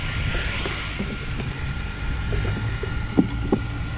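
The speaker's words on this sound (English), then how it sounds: "So why the hell is there 30-mile-an-hour winds out there?" Strong wind blows outdoors at around 30 miles an hour, buffeting the microphone with low rumbling gusts and a few sharp knocks, no talking.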